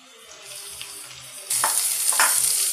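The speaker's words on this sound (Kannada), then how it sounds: "ಟೊಮ್ಯಾಟೊ ಅಲ್ಲಿವರೆಗೂ ಸ್ವಲ್ಪ ಇದನ್ನ ಹೀಗೆ ಫ್ರೈ ಮಾಡ್ಕೊಳ್ಳಿ" Chopped tomatoes, two of them, frying in a pan for dhaba-style egg gravy, a steady close sizzle that jumps louder midway as they are stirred, with a few scraping strokes; no talking.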